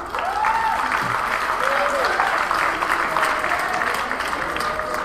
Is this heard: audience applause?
yes